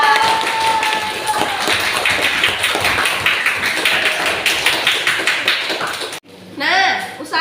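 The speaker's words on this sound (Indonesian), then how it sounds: "Ayo kasih tepuk tangannya dulu untuk Najibah." A seventh-grade class gives a burst of dense, continuous clapping for a fellow student. The noisy applause fills most of the stretch, then stops abruptly as a voice begins speaking.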